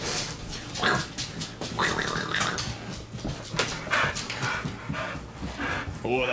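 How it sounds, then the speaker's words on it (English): Excited dogs, eager to go play outside in the snow, pant rapidly and heavily close by, with a few small whines and a soft bark mixed into the breathing. "Oh, the puppies want to go play outside in the snow?"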